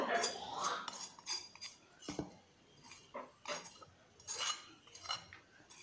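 Boiled, mashed potato being mixed by hand with sautéed ginger, green chilli, onion and curry leaves in a bowl, soft repeated squelching and clinking of a utensil against the dish, close and fairly quiet.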